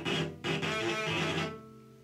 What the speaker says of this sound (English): So if I put a lot of weight on the bow and I get a sound somewhat like this,